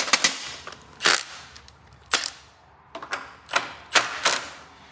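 A ratchet wrench works a 15/16 nut loose on a Cub Cadet 2284 dash, giving sharp, separate metallic clicks in irregular pairs and singles with short gaps between them.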